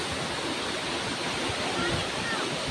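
Tso Kung Tam waterfall in Tsuen Wan, Hong Kong, roars as a steady broadband rush close by on a rainy day, with no break in the wash of water.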